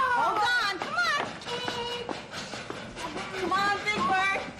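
Children's voices imitate a speeding train with rising and falling whistle-like calls and chugging sounds, loud and close, in a 1975 Sesame Street scene.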